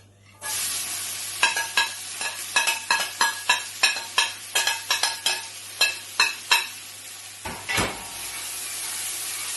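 Chopped brown onion, garlic and green chili sizzle loudly in a hot pan, with a steady hiss broken by a quick series of sharp scraping stirs of a utensil against the pan.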